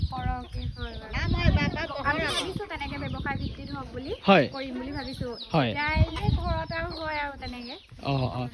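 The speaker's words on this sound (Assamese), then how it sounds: "বাকী কেইজনীমান মুৰ্গী উমনিত বহি আছে।" Local hens kept on a small home poultry farm cluck and cackle nearby while people hold a conversation over them, the birds' calls breaking through the talk throughout.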